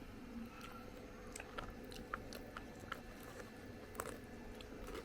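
Quiet, close crunching of crispy fried anchovies (dilis) being chewed, with small sharp bites spread irregularly over a soft background hiss.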